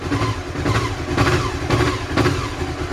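A cold Honda CB500 motorcycle engine idles on choke at a raised, slightly uneven rumble, steady and close for a few seconds, with no talking.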